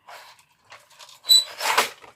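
A metal grommet is set with a We Are Memory Keepers tool on a craft page, a few scraping, clicking handling sounds followed by a sharp metallic snap and a brief crunchy press, fairly quiet and close.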